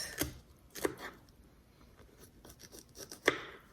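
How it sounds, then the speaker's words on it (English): A knife slices thin pieces of fruit for a no-bake cheesecake, giving three crisp cuts spread over a few seconds, with faint board taps between them. "I'm just gonna cut thin slices like that"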